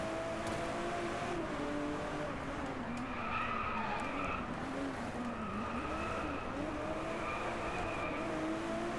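Racing car in Driveclub accelerating under careful half throttle, the engine note rising and shifting through gears while tires skid and squeal, loud and continuous throughout.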